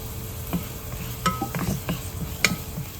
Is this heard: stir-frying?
yes